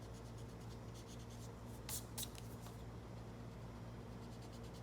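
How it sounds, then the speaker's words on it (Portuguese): A pencil eraser rubbing out guide lines on a technical drawing, a faint, close scrubbing in quick repeated strokes with a couple of brighter swipes near the middle. "Agora eu posso apagar as linhas auxiliares, que não são mais necessárias nesse ponto."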